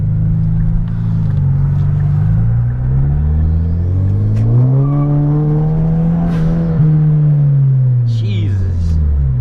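A methanol-tuned Kia pulls hard under full throttle. Its loud, close engine note climbs steadily in pitch through the gears, with a brief dip at a shift, and the roar stays strong from start to finish.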